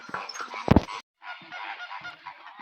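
Loud, nasal honking calls from a flamingo at a safari park in Cebu, a harsh burst followed after a short pause by a longer run of raspy honks close to the microphone.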